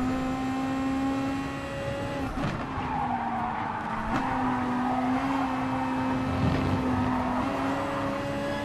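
A VW Beetle GT3 race car at Tsukuba Circuit in Gran Turismo Sport, its tyres spinning and squealing under throttle over a steady high engine drone, loud and sustained with no talk.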